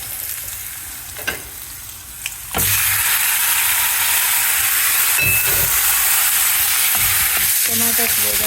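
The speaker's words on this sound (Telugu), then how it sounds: "టొమాటోస్ వేగాక అవి మగ్గేంత వరకు కొంచెం మంచిగా ఆయిల్లో మగ్గనివ్వండి" Tomatoes frying in oil for a basil chutney, a loud steady sizzle that jumps up partway through and holds, with occasional spatula scrapes and clinks.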